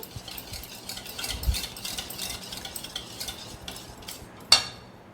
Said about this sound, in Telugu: బీటర్ తోటి బాగా కలుపుకొని సాల్ట్ వేసుకుందాం